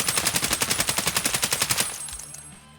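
Crouched full-auto gunfire from a weapon in a video game rattles off as a rapid, evenly spaced burst of about twenty loud shots, then cuts off and leaves a fading tail, with no voices.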